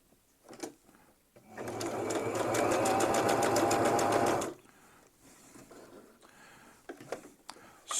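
A sewing machine stitches a diagonal line across a cinch strap in one loud, steady burst of about three seconds, with quiet handling sounds before and after.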